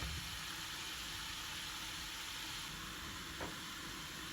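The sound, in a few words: vegetable bhaji cooking in a covered pan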